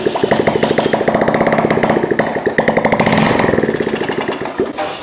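A vintage motorcycle engine, primed with starting fluid, fires and keeps running with loud, rapid, uneven pops that swell and fade as the revs rise and fall. It is close and dry, with no voices.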